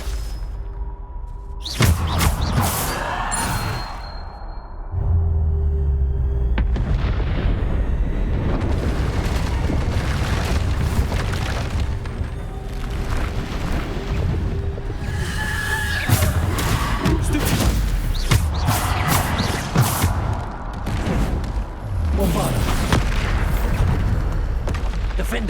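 Bombarda explosion spells in the video game Hogwarts Legacy go off as repeated heavy booms with whooshing blasts across a long, busy fight, loud and close, with voices calling out between the bursts.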